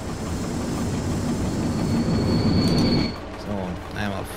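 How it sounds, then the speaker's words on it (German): Train in the Train Driver 2 game on the Sandomierz route, rumbling loudly onto a lower track with squealing wheels, then easing down, while someone talks over the end. "Jetzt können wir da auf das untere Gleis reinfahren."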